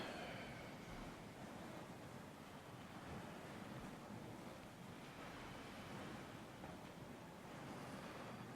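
Ocean waves at the sea wash in a soft continuous rush, faint and distant, with a breathy wind-like hiss and no voices.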